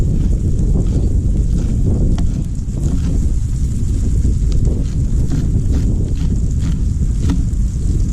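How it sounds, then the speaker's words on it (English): Strong wind buffets an outdoor cooking spot, a loud, continuous low rumble across the microphone with occasional faint knocks, and no talking. "Oh, I hope this wind doesn't blow them away."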